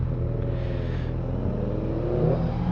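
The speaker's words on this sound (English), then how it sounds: "Oh, here we go, we've got some bikers here." Classic old-school Honda motorcycles ride past with a steady low engine rumble that swells slightly near the end, close and continuous, with no talk over it.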